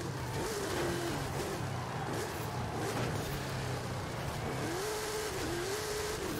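Jeep engine racing in the video game Forza Horizon 5, a continuous loud rev with rising and falling pitch as gears change and the car oversteers, close and steady throughout.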